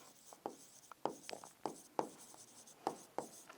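Chalk or marker writing on a board during a Class 10 maths lesson on statistics, a steady series of short scratchy strokes and taps, close and fairly quiet, with no one speaking.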